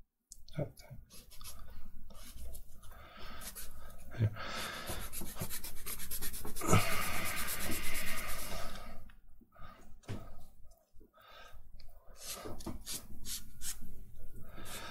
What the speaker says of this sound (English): when this wood glue is really dry, it's perfect to sand it off